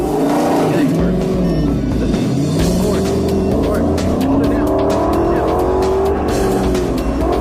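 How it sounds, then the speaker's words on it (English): A car launches hard from a standstill on a 0 to 60 run during a road rally, its engine roaring loud and close as it climbs through the revs, with people talking over it throughout. "let's just practice a little bit of driving, 0 to 60 times and stuff like that"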